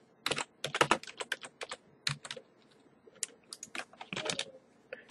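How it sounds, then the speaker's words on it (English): Keys on a computer keyboard are tapped close by in quick, irregular bursts of crisp clicks, with brief pauses between the runs of typing. "go to Google and type in Adblock Plus"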